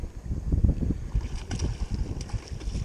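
Wind blows steadily beside a river during trout fly fishing, a continuous low rumbling buffet with gusty swells and no talking.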